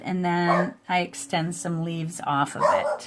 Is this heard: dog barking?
yes